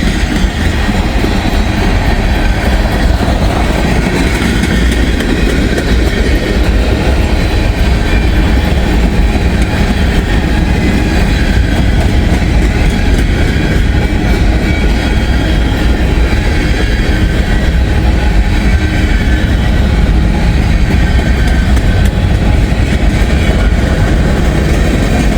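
Freight train with a brand new grain hopper car rolling past on a sunny Saturday, a loud, steady roar of wheels and cars close by, sustained throughout with faint rhythmic clatter.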